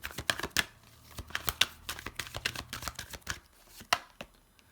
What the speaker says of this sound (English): This is why I shuffle on camera.